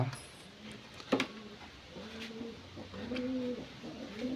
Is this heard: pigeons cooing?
yes